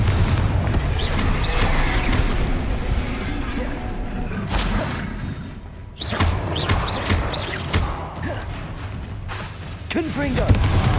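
Bombarda spells detonate in a Hogwarts Legacy battle, several heavy booming explosions with whooshes and thuds between them, loud and close, while voices speak over the fight.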